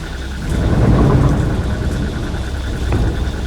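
Rain pours steadily while low thunder rumbles beneath it, with a faint crack of thunder near the end; no voices.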